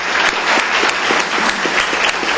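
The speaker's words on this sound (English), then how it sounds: "Let's give them a big round of applause." An audience at a county commissioners court session applauds five-year employees, a dense burst of many hands clapping steadily from start to finish.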